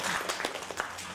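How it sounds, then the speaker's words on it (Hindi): An audience at a business seminar in Vadodara claps, a dense burst of applause running steadily through the short moment with no voices over it. "ताली बजाओ यार."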